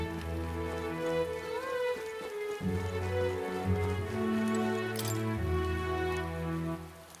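Steady rain patters over a sustained musical drone in the video game Metaphor: ReFantazio, at Brilehaven, with a faint clink partway through.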